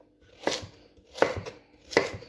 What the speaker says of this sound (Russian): Морковь тоже буду нарезать крупно.